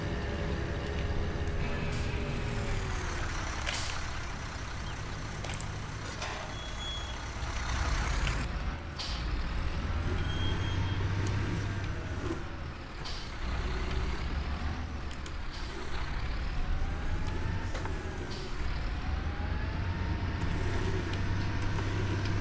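A John Deere swather in Farming Simulator 19 rumbles continuously at close range, a steady heavy engine drone with slight swells in pitch and load and some intermittent higher tones, heard alone without speech.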